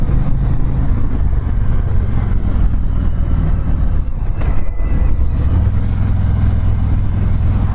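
A 2019 Harley-Davidson Road Glide motorcycle on the move gives a steady, loud, rumbling engine drone mixed with heavy wind rush, heard from the rider's position without pause.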